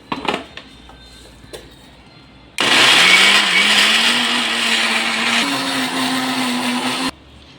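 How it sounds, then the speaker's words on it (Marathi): A mixer grinder blending raw mango chutney whirs loudly for about four and a half seconds, its motor pitch rising steadily, then cuts off abruptly; faint clatter precedes it. "आता हे मी तुम्हाला मिक्सरला लावून"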